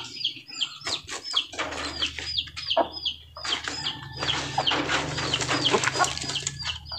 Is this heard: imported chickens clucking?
yes